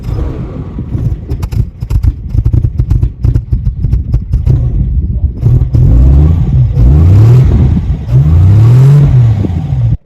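An old Armstrong Siddeley Lancaster car engine rumbles loudly and steadily nearby, heard from outside the car, rising in a few revs with a throaty, uneven idle.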